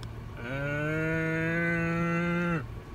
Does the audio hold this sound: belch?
no